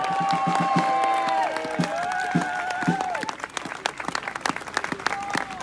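A crowd at a Les Patriotes political rally applauds Philippe de Villiers, bursts of clapping and some cheering mixed with sustained tonal sounds, loud at first, then thinning into scattered claps.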